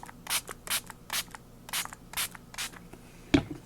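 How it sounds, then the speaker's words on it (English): A spray bottle spritzes water onto Faber-Castell Gelatos colours: about seven quick, evenly spaced hissing spritzes, close and fairly soft, followed by a single sharp knock at the end. "Give it another spritz onto my new colors."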